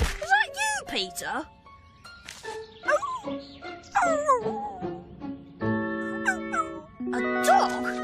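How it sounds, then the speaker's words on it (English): A cartoon dog in an animated Horrid Henry episode yips, barks and whimpers excitedly in quick, varied bursts, with background music and sound effects around it. "A dog?"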